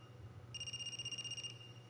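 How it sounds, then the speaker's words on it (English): Phone ringing in the video game AI: The Somnium Files, a faint, thin electronic trill lasting about a second over a low steady background hum. "Is that a phone ringing?"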